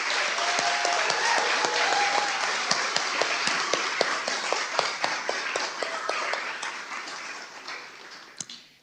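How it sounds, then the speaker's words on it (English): Audience applause at a service dog teams graduation ceremony, a sustained dense round of clapping from a crowd that gradually thins and fades out at the end. "Let's give one more round of applause to all of our students graduating today."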